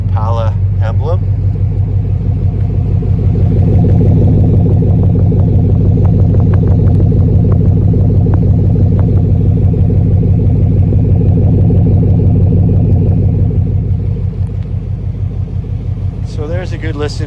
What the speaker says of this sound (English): So there's a good listen to the exhaust.